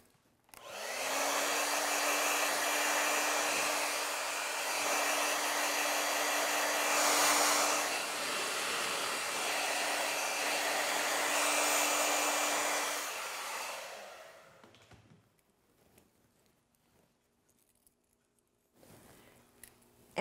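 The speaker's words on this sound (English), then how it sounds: "Roll the hair in the comb and blow dry lightly." A hair dryer blows hair dry as it is rolled around a comb, a loud steady whooshing roar running about thirteen seconds before cutting off into near silence.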